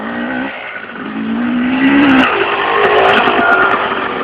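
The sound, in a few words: dirt bike engine riding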